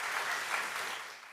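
Church congregation applauding its remodeling committee during a Sunday service, a brief burst of crowd clapping that fades slightly before cutting off.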